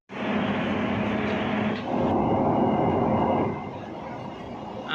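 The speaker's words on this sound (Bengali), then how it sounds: "আমরা এখন মেট্রোর ভিতরে আছি।" Steady rumble and rattle inside a moving metro train, loud and continuous with a slight shift in tone partway through, no talking.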